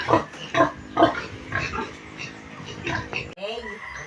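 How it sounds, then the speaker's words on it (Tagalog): Pigs on a farm camp site grunt and squeal as they beg for food, with repeated loud bursts over steady background noise while someone talks nearby. "Nahingi na ng pakain ng aking mga baboy."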